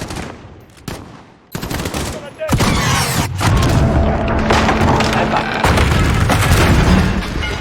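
Heavy gunfire and explosions roar in a Call of Duty Modern Warfare campaign battle, scattered shots at first giving way to dense, continuous automatic fire and booms, with voices speaking over the din.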